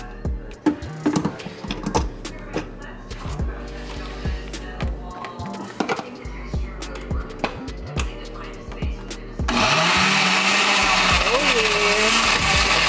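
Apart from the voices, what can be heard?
blender mixing a smoothie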